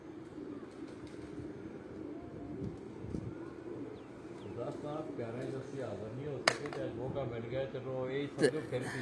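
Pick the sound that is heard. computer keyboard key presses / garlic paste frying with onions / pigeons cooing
pigeons cooing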